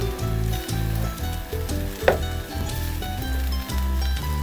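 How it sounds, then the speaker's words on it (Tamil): Fried rice gently stirred in a hot pan, a loud, continuous close-up sizzle with soft scraping and a single metallic clink midway. "அப்படியே லேசாக கிண்டி கொடுத்துருங்க."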